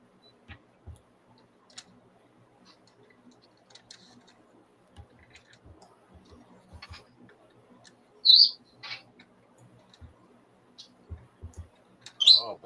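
A bird gives a few sharp, shrill screeches in short bursts, one midway and another near the end, over a quiet room with scattered faint clicks and ticks.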